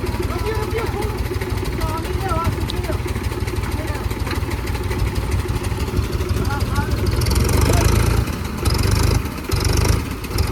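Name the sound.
tractor engine running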